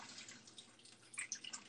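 Water from boiled curly macaroni pasta drains into a kitchen sink through a pot lid, making a soft, faint trickle with light splashes and drips.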